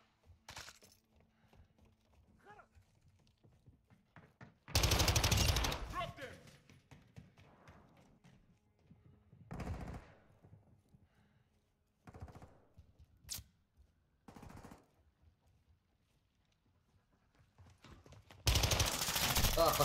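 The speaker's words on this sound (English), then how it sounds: "Panic shooting." Bursts of rapid automatic gunfire in a shooter video game, loud, dense volleys at irregular intervals with quieter single shots, clicks and game noise between them.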